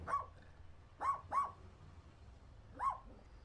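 A dog in a robot-world video game barks four times, short sharp yaps spaced irregularly over a low steady background hum, with no talking.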